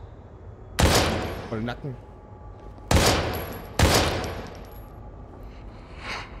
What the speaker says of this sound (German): Super, ich bin daneben geschossen.